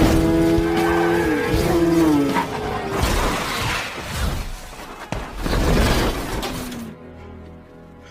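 Racing cars in the 2003 street-racing film Biker Boyz, with engines revving, tires squealing and skidding in long sweeping tones, then a crash of shattering, before abruptly cutting off.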